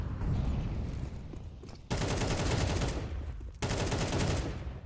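Bursts of AK rifle fire in a competitive shooter match rattle in rapid automatic volleys, two sharp loud bursts cutting in after a quieter stretch of distant shots and game noise.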